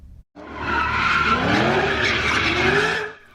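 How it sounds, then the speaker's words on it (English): Car tires screech in one long, loud, sustained skid at an illegal street sideshow at a city intersection, rising and holding for about three seconds before fading. "illegal sideshows taking up intersections with tires screeching, skid marks, and smoke in the air"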